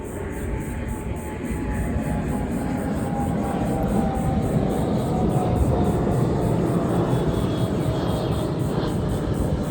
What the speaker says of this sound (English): Hold on, airliner.